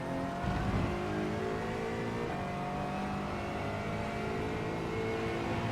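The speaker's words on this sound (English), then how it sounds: "Braking hard, all the way down to 2nd for the hairpin." Aston Martin Vantage GT4 racing at Suzuka in a sim game, engine note dropping through a series of downshifts under hard braking for a hairpin, a loud continuous roar with shifting tonal steps.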